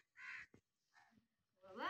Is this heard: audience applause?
no